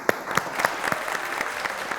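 Scattered clapping from a small TV talk-show audience, steady and moderately loud, with no one talking over it.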